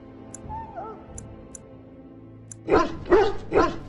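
A dog in the fantasy role-playing game Dragon Age: Origins barks three times in quick succession, loud and close, after a quiet stretch of low game ambience with faint chimes and a brief wavering tone.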